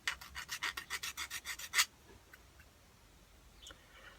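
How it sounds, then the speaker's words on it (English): A small needle file gently chamfering the end of a turned pen blank gives about a dozen quick, close rasping strokes in steady rhythm, followed by near silence with faint scattered ticks. "So I just use a little needle file and just very gently run a little chamfer around and then clean the end up."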